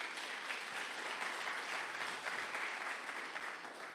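Steady applause from a congregation at a church youth gathering, dense and even clapping that holds at the same level from start to finish with no voices rising above it.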